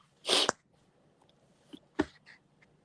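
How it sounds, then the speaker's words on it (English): A single loud sneeze with a sharp burst of breath, followed by a few faint clicks and a quieter second puff, in an otherwise quiet room. "I had to sneeze"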